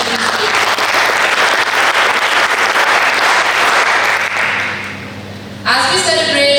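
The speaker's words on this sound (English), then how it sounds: "So a round of applause." Loud audience applause for a child's impromptu performance at a children's model parliament, thick and continuous for several seconds, then dipping before a brief burst of other sound near the end.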